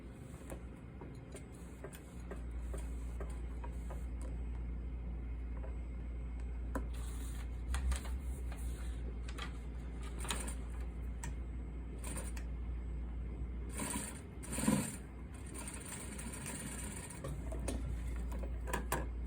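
A sewing machine runs steadily as a fabric seam is sewn, with a low constant motor hum and a fine mechanical ticking from the needle. A few louder clicks and knocks come near the end, all close by.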